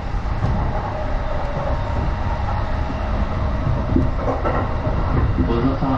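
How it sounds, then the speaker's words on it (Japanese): A Chuo Line Special Rapid Service train runs along with a continuous loud rumble and rattle of wheels on track, heard from inside with faint rhythmic clacks throughout. "This is a 209 Special Rapid Service Train for Nakano."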